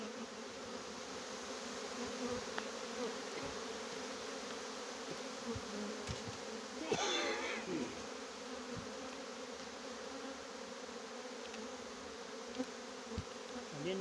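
Honeybees hum steadily around an opened beehive during work on a large hive in 2022, a dense close buzzing swarm with one louder bee passing near midway.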